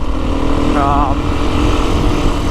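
A 2025 Beta 350 RR X-Pro trail motorcycle runs under throttle with a loud, steady engine drone throughout, and a brief voice sounds over it early on.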